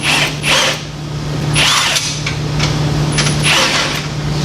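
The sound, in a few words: ratchet with a longer extension turning a bolt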